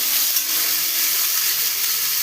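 Potatoes and bitter gourd sizzle steadily in hot mustard oil in a pan, a close, continuous frying hiss with no talk.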